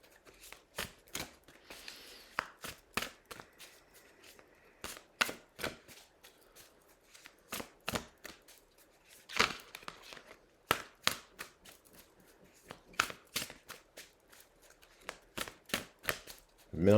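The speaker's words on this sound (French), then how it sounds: "Mélange bien le jeu." A deck of tarot cards is shuffled nearby in quick, quiet bursts of crisp clicking and riffling, repeating irregularly over a low hush.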